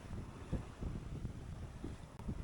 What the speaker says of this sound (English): the first time with this boat that I am really sailing without engine support